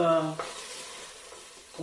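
Onions frying in a pan with a broad, steady sizzle that fades slightly, with a couple of brief clatters from stirring; no talking.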